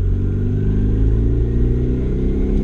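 Turbocharged car engine idling steadily, a deep, continuous rumble with a constant low throb, close and loud, with no voices over it.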